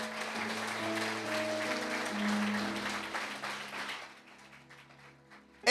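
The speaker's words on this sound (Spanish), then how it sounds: "Dale un aplauso a Dios bien fuerte ahí." Congregation applause at a church service, a sustained wash of clapping from many hands with steady loudness, with music chords held underneath, fading down toward the end.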